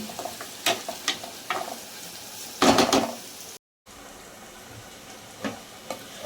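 Carrot and capsicum fry half-cooked in oil, giving a soft, close sizzle with occasional spatula scrapes and pan knocks, one louder burst of stirring, then a brief dropout before quiet sizzling resumes.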